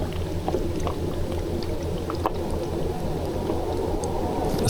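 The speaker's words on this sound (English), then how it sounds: "It's funny how the boat noise just gradually comes back" Distant boat engine noise carried down a glacier valley, a low, steady droning hum that stays constant throughout beneath a faint wash of water and air.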